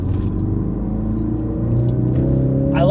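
A 2017 Ford Focus RS accelerates on a sweeping back road, its engine rumble steady and close and building slightly in loudness toward the end.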